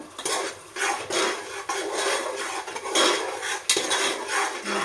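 Vegetables stir-fried in oil for veg pulao: rhythmic spatula scrapes and rasping strokes against a metal pan repeat over a faint sizzle, close and moderately loud, with no talking.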